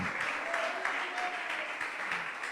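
A church congregation applauds in a steady, dense patter of many hands clapping, continuous and fairly close, with no voices standing out.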